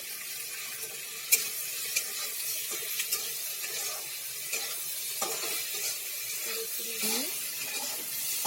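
A chicken and potato curry gets stirred in a pan, giving soft scraping and a light sizzle with a few clicks of the utensil against the metal. A faint running-water wash sits in the background.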